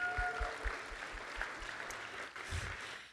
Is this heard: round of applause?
yes